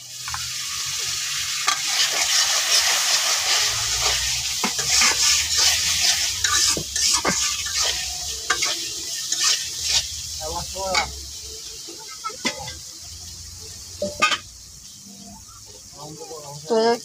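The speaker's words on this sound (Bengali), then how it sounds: "তখন দিয়ে নিতেছি আদা বাটাটা আর জিরা বাটাটা।" Ginger paste and cumin paste frying in a pan, sizzling steadily while being stirred, with intermittent clinks and scrapes of a utensil against the pan.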